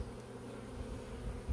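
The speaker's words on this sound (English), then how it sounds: "There's at least thousands of bees." Thousands of honey bees hum at an open beehive, a dense, continuous buzzing drone heard close and steady without pause.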